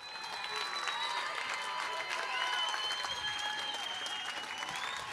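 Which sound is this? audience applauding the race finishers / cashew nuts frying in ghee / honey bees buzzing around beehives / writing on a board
audience applauding the race finishers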